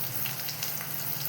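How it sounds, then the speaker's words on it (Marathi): Finely chopped onion sautéing in hot oil with bay leaf and cinnamon pieces, a steady close sizzle and crackle that holds evenly for a brief moment without speech. "मग आपण छान असा खरपूस कांदा गुलाबी होईपर्यंत छान त्याला परतून घेतोय"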